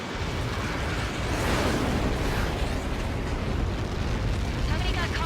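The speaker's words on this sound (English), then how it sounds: "Somebody got caught in that explosion." Massive blast from a Helios projectile impact in Ace Combat 7, a sustained, loud roaring rumble that swells near the middle and keeps churning through the whole stretch without letup.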